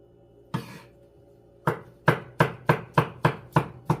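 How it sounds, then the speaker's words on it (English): A knife chops through ham meat for a ham bone and vegetable soup, giving one sharp cut followed by a steady run of seven close, crisp chops on a board. "I'm chopping up this meat."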